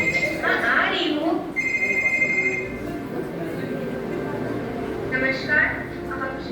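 A telephone rings in a school drama about the Pahalgam attack, with bursts of bright electronic ringtone tones recurring between pauses and voices murmuring underneath.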